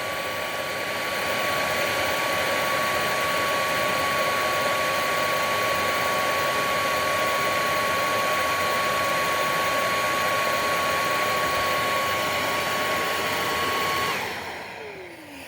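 VacLife VL732 stick vacuum running on high power, a loud steady whirring motor roar with a thin constant whine, holding level for about fourteen seconds before cutting off and spinning down.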